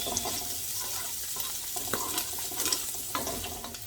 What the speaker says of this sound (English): so this is how our bacon is looking. It's popping all over the place.